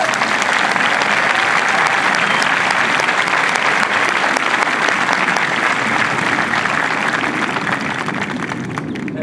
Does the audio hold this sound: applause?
yes